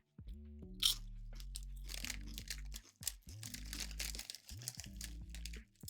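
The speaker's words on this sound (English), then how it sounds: "I just have some crisps" Crisps eaten from a bag, with sharp crunchy bites and crinkling of the packet, close up and fairly quiet, a few chewing crunches in a short run.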